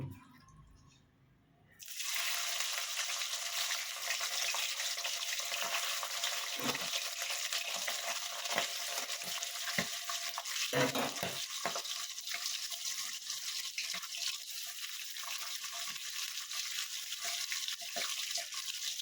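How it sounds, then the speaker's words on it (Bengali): Tangra fish drop into hot oil in a wok, setting off a sudden burst of sizzling after a brief quiet start, then a steady, close crackling hiss with scattered pops. "তেলটা গরম হয়ে গেছে, এবার আমি ট্যাংরা মাছ ভেজে নেব।"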